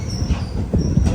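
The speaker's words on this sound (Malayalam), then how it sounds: "റൈവാല ജംഗ്ഷൻ റെയിൽവേ സ്റ്റേഷനിലേക്ക് ഇതാ നമ്മുടെ ട്രെയിൻ എത്തിക്കൊണ്ടിരിക്കുകയാണ്" Mussoorie Express pulling into Raiwala Junction station, a brief steady rumble of rolling carriages with soft wheel thumps, close and continuous.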